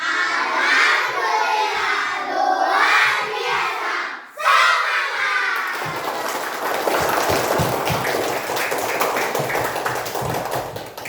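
Schoolchildren in a classroom chant loudly in unison, then clap their hands together in a rapid, rhythmic burst of close, sharp claps, with shouted voices mixed in.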